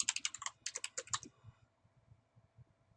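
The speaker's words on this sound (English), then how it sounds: "Type your email address again to confirm." Someone types rapidly on a computer keyboard, with close, crisp clusters of key clicks in quick bursts before the tapping slows and fades to a few soft taps.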